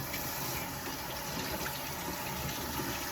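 A cold water tap runs with a steady, even rush of water in a home kitchen while beef stew is being prepared for a crockpot, a continuous hiss that stays level throughout.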